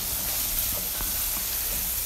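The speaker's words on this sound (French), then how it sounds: "on ajoute le tout dans les oignons. On va bien mélanger." Masala spices stirred into onions sizzling in a pan for eggplant pilau, a steady close frying hiss with faint scraping stirs throughout.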